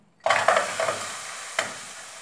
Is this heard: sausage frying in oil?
yes